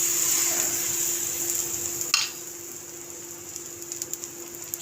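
Missi roti batter poured onto a hot oiled tawa, giving a steady broadband sizzle with a sharp burst partway through as the batter lands, then a quieter crackle with scattered small pops.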